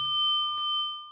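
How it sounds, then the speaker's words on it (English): A single bright bell ding, struck once and ringing out with a clear sustained tone that slowly fades. "I'm just going to have this bell ring"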